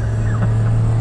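Three-cylinder kei car engine revving hard at full throttle on a winding mountain road, a loud continuous low drone filling the short moment from inside the car.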